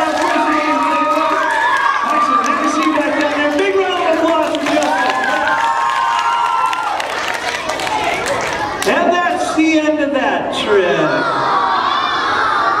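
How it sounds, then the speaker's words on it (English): Children in an elementary school magic-show audience cheer and shout after a trick, a loud, lively crowd roar with whoops and chatter, with an adult voice speaking over it. "Give him a big round of applause"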